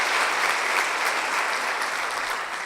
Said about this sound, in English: Can we give those guys a big hand of applause for all their efforts?